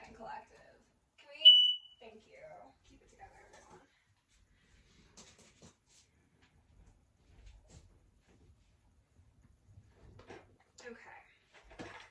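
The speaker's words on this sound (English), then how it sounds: "I need to turn that off because that is my ghost alarm" A single short, piercing electronic alarm beep goes off indoors in a room, loud against otherwise quiet surroundings, with a person talking before and after it.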